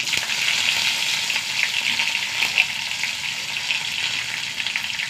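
Mustard seeds, two dried red chillies and curry leaves sizzling in hot oil while tempering for sambar: a loud, continuous crackling hiss with small pops, heard close and alone.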